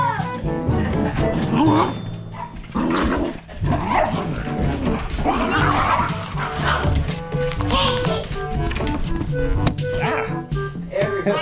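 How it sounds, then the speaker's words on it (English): Several excited dogs bark, yip and whimper close by in an energetic burst of greeting, with people talking and exclaiming among the noise. "Are these like new dogs?"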